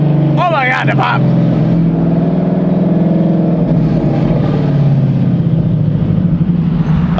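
Ford Mustang S197 running with its exhaust removed, a loud continuous drone with rough, crackling pops on downshifts, heard from inside the car while a person exclaims over it.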